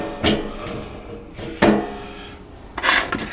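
A large metal washer slides onto a pin on a shop welding cart, giving three short scraping rasps of metal on metal, close by with a quiet gap between each.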